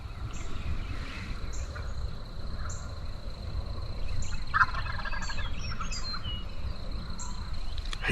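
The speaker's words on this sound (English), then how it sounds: "there's one out there in the field gobbling coming behind him" A wild turkey gobbles out in a field, several short rattling gobbles at a distance over a low steady outdoor rumble, with no voices.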